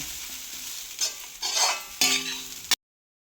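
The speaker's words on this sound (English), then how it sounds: "You have to fry roast the coconut till it" Grated coconut roasting in a pan, stirred in bursts of loud scraping and crackling over a steady sizzle, with no talking.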